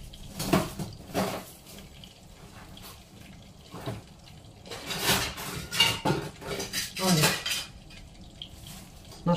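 Dishes and cutlery clatter and clink in bursts as someone rummages through them for a potato masher, close by, with irregular pauses between the rattling.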